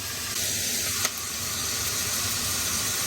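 Greens drop into hot boiling water for beef and green pepper noodles, a steady bubbling hiss and sizzle, close and continuous, with a brief clink partway through.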